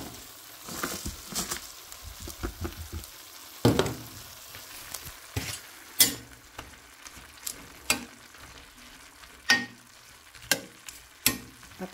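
Zucchini and peas sautéing in a pan, a soft steady sizzle broken by scattered sharp knocks and scrapes of a spatula, heard close with no talking.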